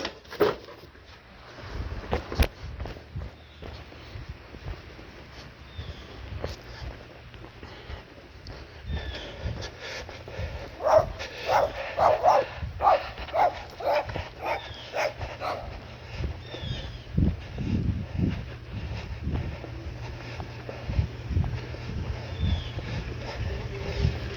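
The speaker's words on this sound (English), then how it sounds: "That dog was barking at you." Dog barking outdoors in Niagara near a firefighter, with scattered barks and whimpers over wind and a low rumbling background hum, moderately close and fairly loud in bursts.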